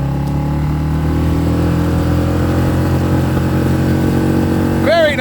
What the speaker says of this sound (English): Let's see how this little boat moves with a 6 horsepower outboard.